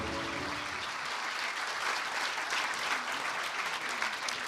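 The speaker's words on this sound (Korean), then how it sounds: "귀중한 말씀해 주신 대통령님께 다시 한번 뜨거운 박수 부탁드립니다." An audience at a meeting of senior public officials gives warm applause for the South Korean president: a dense, even wash of clapping from many hands, steady and moderately distant, lasting throughout.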